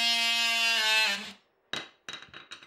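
An oscillating multi-tool cutting wood gives a steady, loud buzzing whine for just over a second, then stops. A few short, sharp knocks and clatters follow.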